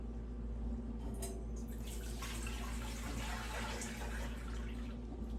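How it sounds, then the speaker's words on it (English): Four cups of hot water are poured into a cooking pan on a homestead kitchen stove, producing a faint, continuous splashing trickle at low volume. "I have 4 cups of hot water, and I'm going to pour it in my pan."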